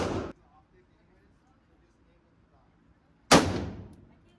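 Shots go off at an outdoor gun range. There are two sharp, loud reports with a long quiet gap between them, and the second rings out with a decaying tail.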